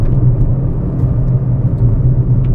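A Ford Focus RS driven hard on a track in South Africa gives a loud, steady engine rumble with road roar, close and continuous with no talk over it.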